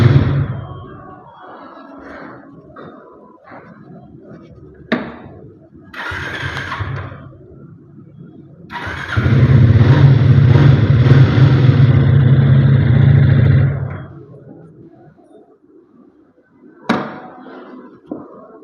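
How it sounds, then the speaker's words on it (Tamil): A Triumph Thruxton 400 cafe racer motorcycle revs up close, with short blips building to a loud sustained rev of several seconds, then dropping back to idle, with a sharp thump near the end. "இதோட எக்ஸாஸ்ட் சவுண்ட் எப்படின்னு பார்க்கலாம்."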